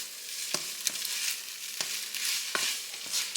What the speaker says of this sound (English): I'm going to get that sauce stirred up in here with everything else